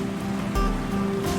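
Running water during an RV trip, a steady broadband wash with a brief stronger surge midway, continuous and moderately close, with no talk.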